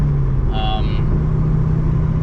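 A car engine hums with a low, steady drone inside the cabin while driving, loud and constant throughout.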